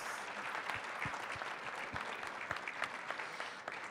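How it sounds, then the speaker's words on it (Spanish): Audience clapping steadily at a conference panel session, a dense continuous patter of many hands at moderate level with no talk over it. "Quiero pedirles un gran aplauso para Nacheli, para Carol, para Guillermo, para Edurne, para Adelfo."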